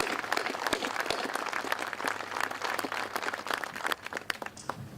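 Crowd applause at a Mt. Vernon High School 9/11 ceremony: steady, dense clapping from many hands that holds for several seconds and thins slightly near the end, with no talk over it.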